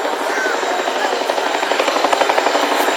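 A Chinook twin-rotor helicopter in a demonstration at the Cosford Airshow, loud and close, with a rapid rhythmic rotor chop over a broad turbine roar.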